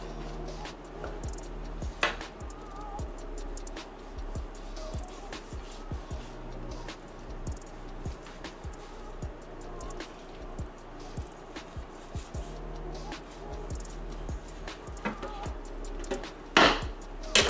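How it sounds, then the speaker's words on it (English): A sharp knife trims fat off raw steak on a board, producing soft repeated cutting and scraping taps, faint and irregular, with an occasional louder knock. "I'm gonna finish cutting the fat off"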